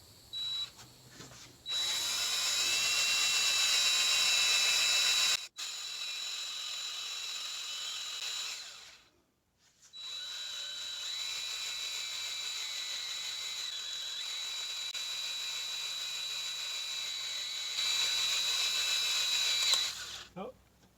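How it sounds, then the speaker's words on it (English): A drill bit bores slowly through a metal bolt, giving a steady high-pitched whirring grind that runs in two long stretches separated by a brief pause, loud and close. "Drill slow."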